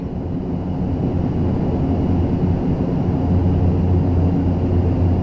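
Carenado A42 500 turboprop landing in Prepar3D V4: a steady, loud low engine drone with a deep hum and propeller whir, continuous and unchanging throughout.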